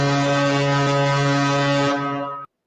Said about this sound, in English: We need to give everybody the big foghorn here too.